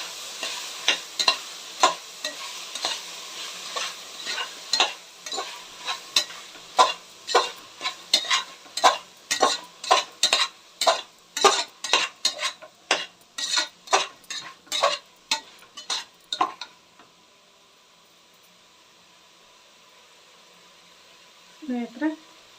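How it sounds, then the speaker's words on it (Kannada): Spiced food fries in a pan while a spatula stirs it in quick, regular scrapes, close and clear, above a low sizzle. The strokes stop partway through, a faint hiss carries on, and a brief voice comes in at the very end. "ನೋಡಿ ಸ್ನೇಹಿತರೆ, ಇವಾಗ ಚೆನ್ನಾಗಿ ಫ್ರೈ ಮಾಡಬೇಕಾಗುತ್ತೆ"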